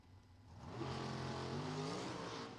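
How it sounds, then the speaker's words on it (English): A dragster launches off the line at a drag strip test and tune, its engine rising into a distant, swelling roar that holds steady, faint and far off. "Raposa's dragster goes right up in smoke right off the line."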